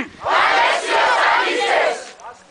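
A group of people shouts a chant together in unison, loud and sustained for about two seconds, led by one person who calls it out first so everyone repeats it.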